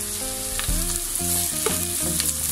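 Sliced onion and capsicum sautéing in hot oil for Indo-Chinese dragon chicken, a loud, close crackling sizzle over steady tonal background notes, with brief stirring bursts.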